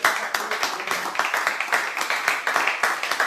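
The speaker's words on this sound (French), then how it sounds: "Applaudissons pour le Seigneur." A church congregation clapping in praise, the loud, fairly rhythmic claps coming in quick repeated bursts, with a few faint voices mixed in.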